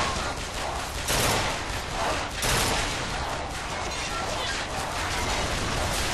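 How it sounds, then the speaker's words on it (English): Scattered gunfire in the video game BioShock Infinite, dense and noisy bursts blending into a continuous roar of shots with loud peaks, heard alone without talk. "You're just shooting randomly there."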